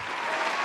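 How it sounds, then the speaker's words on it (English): A short, dense round of crowd applause, an even wash of clapping that lasts under a second. "Round of applause."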